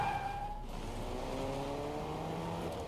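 Car driving in the video game Fortnite, a steady engine drone with gradually rising harmonic tones and a light high whine near the start, moderately loud and alone.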